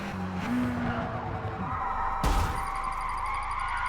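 A car in Forza Motorsport roars and its tires screech as it spins through a donut, with a sharp thump partway through and a steady engine hum afterward.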